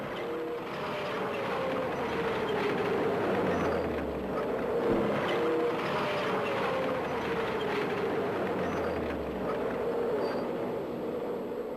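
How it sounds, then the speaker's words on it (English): A Swedish Strv tank moving forward, a steady heavy engine rumble with a droning whine and rattling tracks, continuous and fairly close, with a couple of low swelling surges. "The tank can then move forward again."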